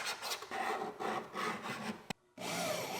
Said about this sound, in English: So we're going to scribe the floor where these seat mounts go.